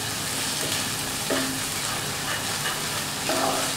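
Ginger and garlic paste sizzles steadily in a pan while being stirred, with soft scraping strokes over a constant frying hiss.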